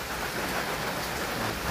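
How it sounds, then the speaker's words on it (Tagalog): Steady rain pouring down outdoors, a dense even hiss of falling water that holds constant throughout with no voices over it. "Ulan!"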